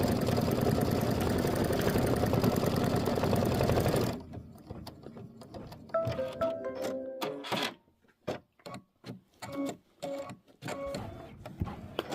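An embroidery machine runs a placement stitch on quilt fabric, first as a loud, dense mechanical whir, then as a quieter series of rhythmic stitching bursts with short pauses. The sound is close and there is no talk.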